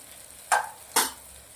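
Two quick scraping strokes of a spoon stirring red chilli, salt and turmeric into rice in a pan, close and brief, separated by a short pause with a faint background hiss.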